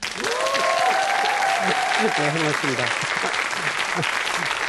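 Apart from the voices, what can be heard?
audience applause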